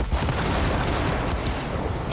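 Dense, rapid gunfire from a firefight in the video game Cyberpunk 2077, a loud continuous barrage of overlapping shots and impacts with no pauses.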